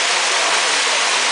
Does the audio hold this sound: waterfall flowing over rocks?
yes